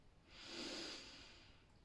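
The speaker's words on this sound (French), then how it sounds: "inspiration par le nez" A single slow inhalation through the nose during a relaxation breathing exercise, a soft close airy hiss that swells and fades over about a second.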